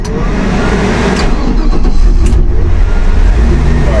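A lifted 1982 Chevy half-ton pickup with a fuel-injected LS swap 5.3 V8 and 4-speed fires up from cold and settles into a loud, steady, rumbling idle close by, alone without talk.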